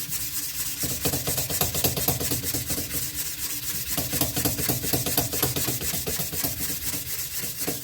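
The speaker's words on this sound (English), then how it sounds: "just take and get your sandpaper, or a wide piece, and just basically do the shoe shine method" Sandpaper rubbed around a gun barrel with a back-and-forth shoe-shine motion, a loud continuous rhythmic rasping that stays steady throughout without speech.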